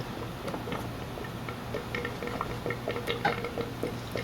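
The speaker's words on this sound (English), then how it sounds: "unscrew the top, and drain all the oil in there" Motorcycle fork oil drains from an open-chamber fork into a container with a soft, uneven liquid trickle and scattered small drips and ticks, close by and moderately quiet.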